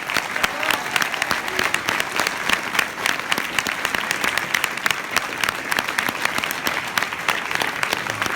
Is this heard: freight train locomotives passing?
no